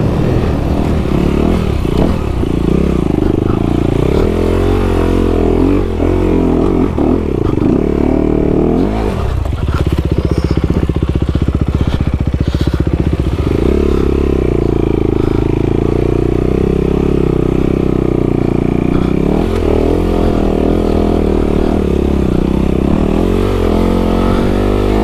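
A dirt bike engine runs loud and close through a long ride, rising and falling with throttle changes, while the bike clatters and rattles over rough ground.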